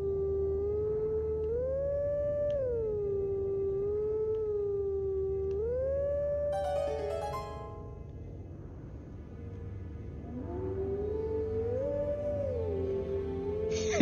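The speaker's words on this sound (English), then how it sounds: "Howling time." Wolf howling in The Legend of Zelda: Twilight Princess, a pure, sustained in-game tone that rises and falls in pitch three times with a brief chime in between, loud and alone.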